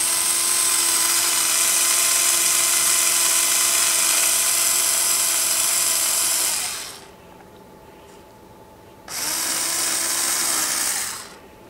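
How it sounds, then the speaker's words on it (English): An electric screwdriver drives a marble lifter gear with a steady high whine, loud and close, running about seven seconds, pausing, then whirring again for a shorter burst. "Using my electric screwdriver."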